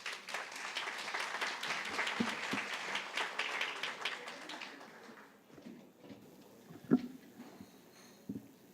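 An audience at a national judicial conference gives loud, dense applause to welcome the national prosecutor, sustained for several seconds before thinning out and fading into quiet room noise with a few stray sounds.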